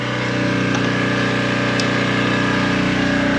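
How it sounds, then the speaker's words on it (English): A power generator engine runs during a brownout in the Philippines, a loud, close, continuous mechanical drone that holds steady throughout with no talk over it. "There's the generator right there."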